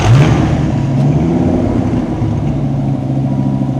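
A 1995 Dodge Viper RT/10 V10 sits idling loud and close, a deep steady engine drone with a brief rev at the start before settling into an even rumble.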